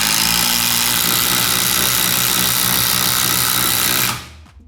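A DeWalt impact driver runs loud and steady with a dense, buzzing whine, free-spinning at idle, then cuts off abruptly near the end and winds down. No talking.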